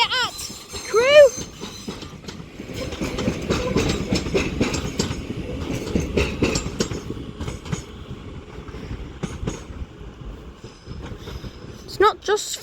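A Northern Class 331 electric multiple unit pulls out of Crewe station on the West Coast Main Line, giving a steady rumble and rolling clatter under moderate station ambience, with brief high squeals near the start and the end.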